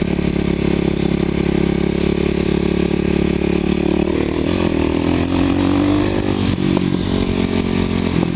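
Kawasaki KLX250sf supermoto motorcycle ridden on roads through an Indian reserve, its single-cylinder engine droning loud and steady with shifting revs and wind rush, no talk.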